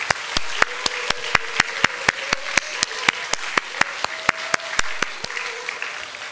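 A church congregation claps in unison to encourage and congratulate a couple about to marry, sharp rhythmic claps at a brisk, even beat, with a faint sustained tone underneath.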